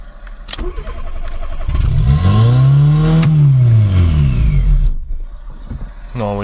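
Fiat Seicento fitted with a 1.1-litre turbo engine revving hard, rising and falling through a long loud sweep with a sharp blip near the start and another at the end, close and alone.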